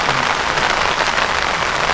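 Heavy rain pouring down during an outdoor field sports match, a loud, dense, continuous hiss of drops hammering the ground, close and steady with no talk.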